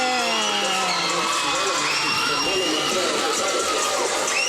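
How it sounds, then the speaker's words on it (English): A crowd at a Green and White Night event cheers loudly and continuously, with whoops and high shouts blending into a dense wash of voices that holds steady throughout. "That's more cheering."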